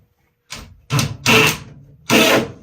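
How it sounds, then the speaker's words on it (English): A GRK fastener screw is power-driven into wood in short bursts: a brief buzz, then three longer whirring runs separated by pauses, close and fairly loud. "See how fast that went in with those GRK fasteners there?"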